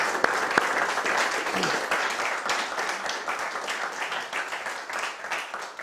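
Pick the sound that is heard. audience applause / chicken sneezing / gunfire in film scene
audience applause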